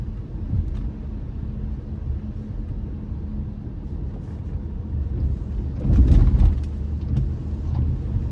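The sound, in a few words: large truck turning on the road ahead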